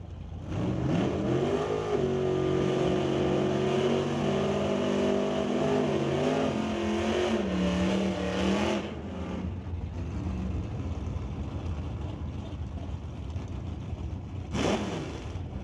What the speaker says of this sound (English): we'll fire off the Dodge Dakota